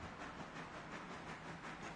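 A small 10-wheeler steam locomotive rolls with an 853-ton heavy train in the Railroader game, producing a faint, steady rumble with a soft rhythmic clatter and hiss throughout.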